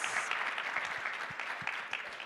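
A crowd at a CES 2024 conference session keeps up continuous applause, an even wash of many clapping hands with a faint voice briefly audible under it.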